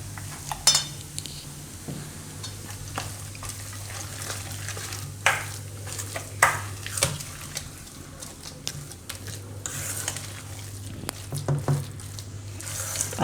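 A spoon stirs a batter of jowar flour and semolina with Eno in a bowl, giving soft wet squishing, intermittent clinks and scrapes against the vessel, fairly close and with no voices.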